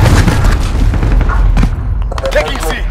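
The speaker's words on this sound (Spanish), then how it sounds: "Tira granada" A grenade goes off in a multiplayer shooter game's Domination mode. A loud booming blast thumps amid ongoing gunfire and battle noise, with voices in the background.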